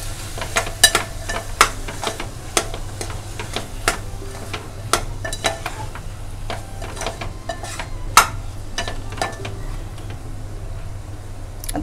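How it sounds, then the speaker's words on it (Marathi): Fresh wet cashew kernels sautéing in a pan on a home stove, a soft continuous sizzle broken by sharp, irregular clicks and taps of a spoon stirring against the metal, fairly quiet and close. "आता मी याच्यावर चांगलं परतून घेणार आहे गर"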